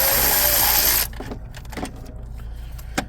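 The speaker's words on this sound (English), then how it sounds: "let's switch over to our electric ratchet" Electric ratchet spinning a bolt loose during a turbo replacement on a 2016 Chevy Cruze, a loud buzzing whir for about a second, then quieter clicks and clanks of handling.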